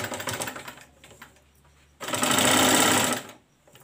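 Sewing machine stitching a seam on a raglan-sleeve baby frock, running in two bursts: a lighter, uneven stretch of stitching, then a brief pause and a loud, steady high-speed run that stops abruptly.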